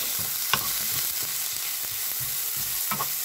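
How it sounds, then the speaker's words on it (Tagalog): Spinach sautéing in a pan, a steady close sizzle with rhythmic stirring and scraping strokes, no voices. "magigisa lang tayo ng ano ha?"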